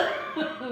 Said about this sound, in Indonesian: Langsung batuk ya.